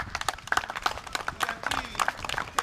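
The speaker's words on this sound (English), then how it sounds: "So let's give a round of applause for E." A small group at a Labor Day backyard BBQ applauds for EF Erik, with close, uneven hand claps and a few whoops, fairly loud and short.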